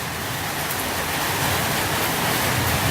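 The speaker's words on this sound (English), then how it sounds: "The rain slowed right down." Steady, dense warm tropical rain in Koh Samui, Thailand hisses evenly throughout, a constant close wash of falling water with no other sounds standing out.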